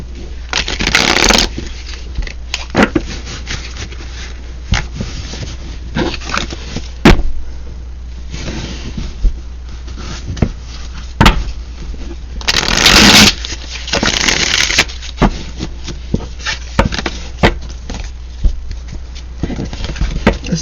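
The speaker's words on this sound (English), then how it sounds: "All right, let me just shuffle this deck here." A deck of cards shuffled by hand, with bursts of rapid riffling and scraping that rise and fall over a steady low hum, loudest near the start and middle.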